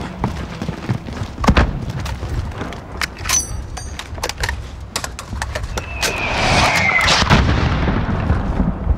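Mortar and gunfire in the video game Call of Duty: Modern Warfare: scattered sharp shots and heavy booms spread across a noisy battlefield, with a sustained rumbling roar building toward the end.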